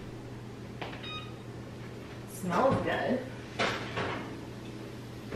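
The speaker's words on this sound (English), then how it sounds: "So I'm gonna pull this out of the oven." A kitchen oven door opens and a baking dish is pulled out, with a couple of clattering bumps and a soft thunk at close range while someone speaks briefly.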